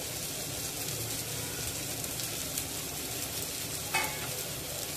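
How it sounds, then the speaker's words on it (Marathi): Prawns sautéing in masala in a pan give off a steady, soft sizzle with light stirring and one brief clink near the end. "हे प्रॉन्स सुद्धा आपल्याला मिनिटभर या मसाल्यामध्ये परतायचे आहेत।"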